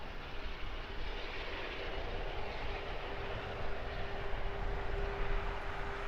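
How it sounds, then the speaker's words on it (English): A Cathay Pacific Boeing 777-300ER in oneworld livery at Heathrow on a damp morning gives a steady, broad jet engine roar that holds throughout and swells slightly toward the end. "This is the One World liveried Cathay Pacific, streaming some nice ribbons."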